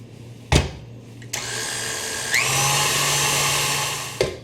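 Electric mixer beating chocolate cupcake batter, whirring in steady bursts with a few bumps and clatters against the bowl, close and loud.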